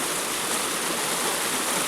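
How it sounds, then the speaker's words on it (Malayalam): Steady rushing of spring water flowing after rain, running strongly, continuous and fairly close with no other sounds. "ഇത് മഴ പെയ്തിട്ട് ഉറവ പൊട്ടി വരുന്ന കേട്ടോ ഉണ്ടോ ഉറവ വെള്ളമാണ്"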